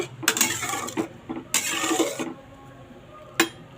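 A spoon scrapes and clinks against a cooking pot while lentil dal with a fish head is stirred, in three separated bursts of metallic scraping and a single sharp knock at the end.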